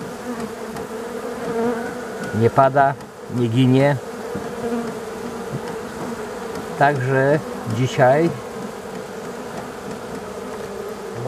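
Honey bees buzz steadily around a hive during a morning inspection, a dense continuous hum close by, while someone speaks in brief bursts over it.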